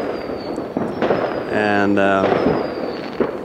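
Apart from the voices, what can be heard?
fireworks going off around midnight on New Year's Eve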